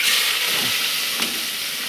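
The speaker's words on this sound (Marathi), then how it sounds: "कांदा टाकले मग ते शिजवून घ्यायचं." Onions tossed into hot oil with curry leaves in a wok sizzle and hiss steadily for the whole stretch, a dense close frying wash with a couple of brief crackling bursts and no talk.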